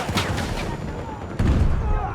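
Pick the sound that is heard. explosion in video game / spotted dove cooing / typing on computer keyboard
explosion in video game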